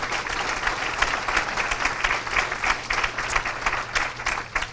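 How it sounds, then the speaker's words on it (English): An audience at an employee forum bursts into sustained applause, dense and steady clapping with a few louder individual claps and no talk over it. "So let's, a round of applause for everyone involved on that"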